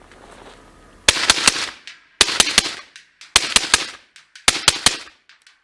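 LMT R20 RAHE Estonia reference rifle fired outdoors in the cold, in four rapid strings of about three to four sharp, loud shots each, separated by short pauses, with no talking.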